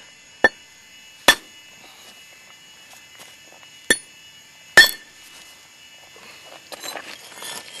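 Four sharp, glassy clinks come from percussion flaking on a large basalt biface during field spalling outdoors on sand. The strikes are spaced irregularly over a few seconds and followed by faint pattering of falling debris.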